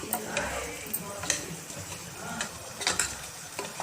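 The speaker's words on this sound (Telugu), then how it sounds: "క్యాప్సికమ్, వేసుకుని 1 minute మళ్ళీ 1 minute అటు ఇటు ఫ్రై చేయాలి." Chopped capsicum and carrot fry in a pan with a soft sizzle while a spatula stirs and taps in quick, uneven clicks, close and brief.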